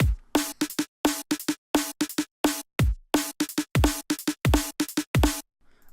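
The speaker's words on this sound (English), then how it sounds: "So I've got a kick snare and ghost snare." A drum sample pattern of kick, snare and ghost snare plays alone, with sharp, punchy hits in a steady, repeating groove where soft ghost notes sit between the louder kick and snare strikes, ending in brief silence.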